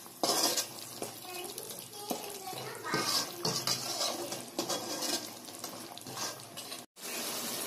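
Chicken gravy with added water is stirred in a pot: wet sloshing and the clink of a spoon against metal, close and uneven, with faint talking in the background.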